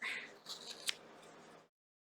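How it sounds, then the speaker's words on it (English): Close, crisp snipping of small scissors trimming while a needlepoint pin cushion with a wooden base is finished, a few quick cuts with one sharp click in the middle, then the sound stops. "This is why they're not fabulous nippy scissors."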